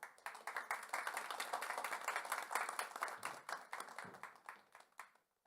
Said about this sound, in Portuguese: vamos receber com aplausos João Bueno.